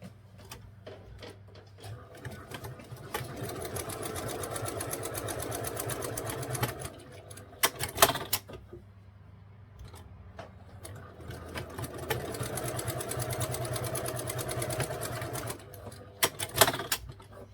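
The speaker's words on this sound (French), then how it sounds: "on va faire 2 coutures sur le côté, environ 1 cm du bord" A sewing machine runs side seams on fabric in two long, steady bursts of rapid rattling stitching, close and clear, separated by brief pauses with a few sharp clicks and knocks.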